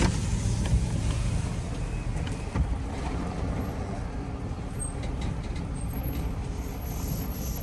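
A vehicle drives on a cold farm, giving a steady low engine and road rumble that stays loud and close throughout, with a brief bump partway through and no voices.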